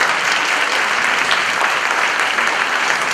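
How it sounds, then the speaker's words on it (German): An audience at a dance and ballet school show claps steadily for two girls, a dense, even wash of applause that holds at a constant level throughout. "Ein extra Applaus."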